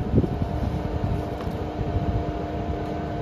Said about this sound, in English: I could hear one of the fans going